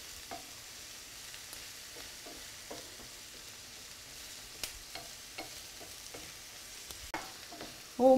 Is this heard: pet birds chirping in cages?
no